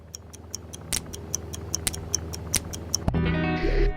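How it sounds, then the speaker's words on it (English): A ticking bomb in the spy puzzle game I Expect You To Die, with steady, crisp ticks at an even pace before a sudden electronic hum swells in at the end. "Oh, the old ticking bomb."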